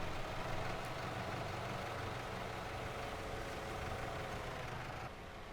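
A small John Deere tractor engine runs a bale wrapper, a steady, unbroken idling drone that drops slightly in level near the end.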